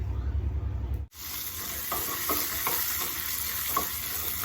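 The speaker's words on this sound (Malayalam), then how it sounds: "വെളുത്തുള്ളി ചുവന്നുള്ളിയും കൂടെ അതിലിട്ടിട്ടൊന്ന് മരിയിപ്പിക്കുക" Garlic and shallots sautéing in coconut oil in a pan, a steady bright sizzle with scraping stir strokes after a brief cut near the start, close and continuous with no talk.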